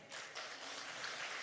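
A church revival congregation breaks into steady applause, a dense, continuous wash of clapping held at an even level throughout.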